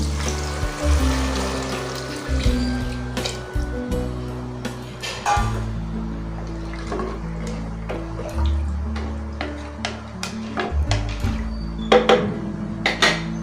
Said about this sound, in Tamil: 5 உலக்கு நான் தண்ணி எடுத்து வச்சுருக்கேன். அதை சேர்த்துக்கலாம்